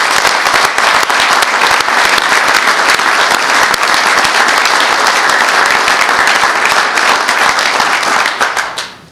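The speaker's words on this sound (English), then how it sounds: "Would you please give them a round of applause with me?" Loud, sustained applause from a crowd at a legislative caucus press conference after a liquor vote, many close hands clapping densely before fading out at the very end.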